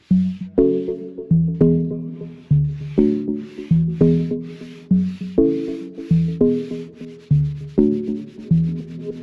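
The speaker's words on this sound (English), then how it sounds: "With a thicker sanding pad, we then sand together at the same time, having 4 hands on the pad." Two people hand-sand a boat hull together with a thick sanding pad, producing a steady, rhythmic series of rough scraping strokes, roughly two per second, close and alone without talk.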